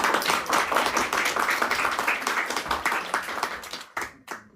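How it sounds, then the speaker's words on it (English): An audience breaks into applause at a live-streamed event introducing the mayor of Saratoga, a dense sustained clatter of many hands that fades out, with a couple of final claps at the end. "Let's give it a round of applause, Mr. Lee."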